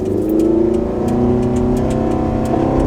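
A 2009 Toyota Camry Hybrid engine at full throttle with a hybrid system fault drones loud and close in a steady low bogging roar, with faint rhythmic knocking ticks running through it, no talking.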